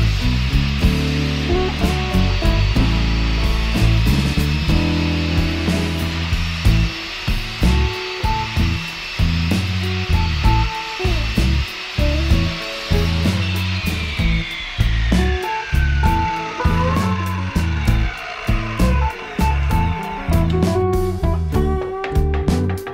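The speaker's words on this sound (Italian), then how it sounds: "riuscirò a fare dei tagli ripetuti alla stessa altezza e a tagliare via la parte di manico" Handsaw strokes cutting repeatedly through the wooden neck of a homemade cigar box guitar, a steady rhythmic rasp of back-and-forth cuts at even pace, close and clear, with no talking.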